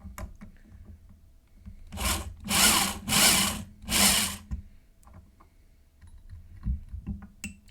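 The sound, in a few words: drilling a hex nut with a regular drill bit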